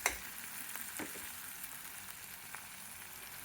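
Bitter gourd masala frying in a kadai, a steady soft sizzle with a few faint stirring clicks, close and alone with no talk.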